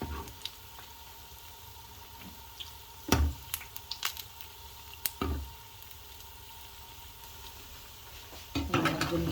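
Jackfruit sweets sizzling in hot oil in a pan, with a steady frying hiss broken by a few sharp scrapes and knocks as the pieces are turned over.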